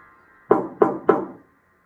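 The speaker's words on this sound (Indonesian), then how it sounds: "Ia mencoba mengetuk pintu." Three firm knocks on a door, evenly spaced and fairly close, over a quiet background, followed by silence.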